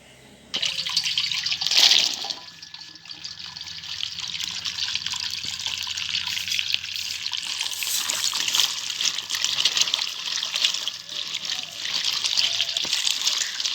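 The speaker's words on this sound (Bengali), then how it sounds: "ভালো করে পরিষ্কার করে ধুয়ে নিই বেগুনগুলো" Chopped eggplant gets rinsed under a running tap, a steady close stream of water splashing into a bowl with shifting trickles and splatters as the pieces are handled, continuing for over ten seconds.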